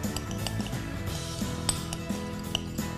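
Aloo papdi chaat topping being stirred after chaat masala is added, with scattered clinks and scrapes of a utensil against a bowl, soft and close, continuing for a few seconds with no talking.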